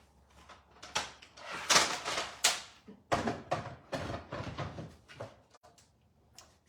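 A die-cutting machine cranks paper and a die through its platforms, giving a string of close, uneven mechanical clunks, rolls and clicks of moderate loudness with short pauses between them.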